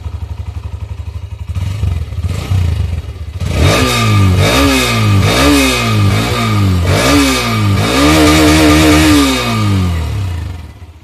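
A Hero Xtreme 125R motorcycle's exhaust idles low, then is revved repeatedly in a series of rising and falling blips, loud and close with no talking.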